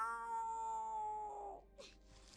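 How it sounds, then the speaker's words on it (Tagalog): A long, drawn-out cat meow, tonal and wavering, fading out, followed by a brief faint rustle. "Pusa lang pala!"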